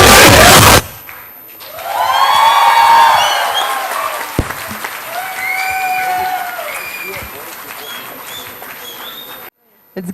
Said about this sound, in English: Another big round of applause for this beautiful performance by our